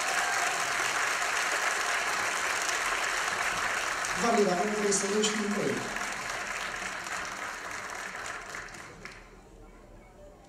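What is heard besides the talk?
audience applause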